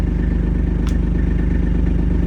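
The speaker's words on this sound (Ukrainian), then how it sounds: "Ну, мотор просто тихо працює." An Iseki AT 25 tractor engine idles quietly up close, a steady low, even throb of regular pulses with a faint clatter on top.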